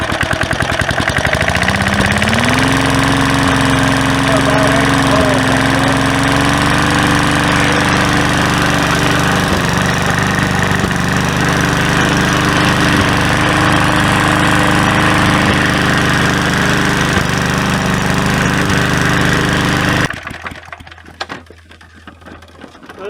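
An old Cooper Cyclo-Vac lawn mower engine, about fifty years old, revs up from a pull start and runs loudly and steadily with a droning hum and rattle, then cuts out abruptly at the end.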